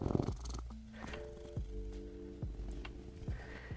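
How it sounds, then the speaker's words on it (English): A cat purrs hard up close, the soft, rhythmic rumble pushing through its nose. Faint, quiet tonal notes sound in the background. "It's only when she's purring really hard that she does through the nose."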